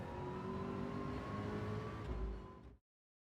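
A Ford GT LM Race Car Spec II in Gran Turismo 7 drives with its engine holding a steady high droning whine, a brief deeper swell near the end before it cuts abruptly to silence.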